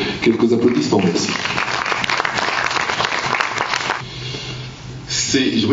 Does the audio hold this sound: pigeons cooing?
no